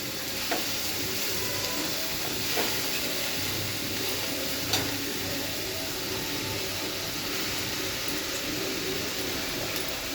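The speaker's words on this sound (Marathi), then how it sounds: "चवळीची भाजी टाकत आहे याच्यात. चांगली परतून घ्यायची." Cowpea (chavli) vegetable frying in a pan gives a constant dense sizzling hiss, broken every couple of seconds by a soft stirring scrape.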